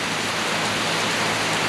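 Rain pours steadily on a warm morning along the road from Koh Chang toward Pattaya in Thailand, a dense, even hiss of drops filling the whole stretch without pause or voices.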